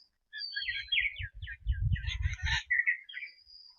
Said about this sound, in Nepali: चराहरू आम्मा, चराहरू उडेर यतादेखि उतादेखि यता हो